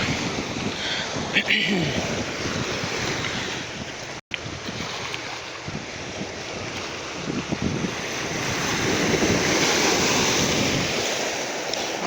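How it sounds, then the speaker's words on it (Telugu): Sea waves hit rocks along a beach in a continuous, loud wash of surf that swells toward the end, mixed with gusty wind buffeting the microphone. "అలలు అలా వచ్చి ఈ రాళ్ళని తాకినప్పుడు అలా ఎగిరినప్పుడు ఆ దృశ్యం బాగుంటుంది చూడడానికి"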